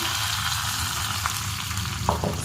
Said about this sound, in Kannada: ಒಗ್ಗರಣೆನ ಇದಕ್ಕೆ ಹಾಕ್ತಾ ಇದ್ದೀನಿ